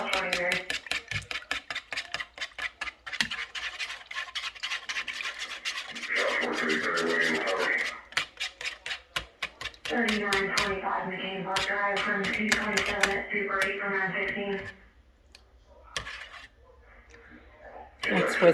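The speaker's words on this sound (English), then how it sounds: "Let me whisk the egg and milk mixture up." Egg and milk mixture for hush puppies is whisked in a bowl, giving steady rapid rubbing and tapping strokes that pause and resume, with a hum in the background.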